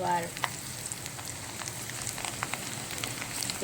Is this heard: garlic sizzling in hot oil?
yes